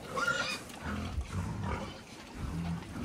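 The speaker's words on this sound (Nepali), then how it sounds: "यसो तिर्खाएको हुन्छ बुङ्गुरहरू," Thirsty pigs at a Bhaktapur pig farm grunting softly and intermittently as they drink water, close by and fairly quiet.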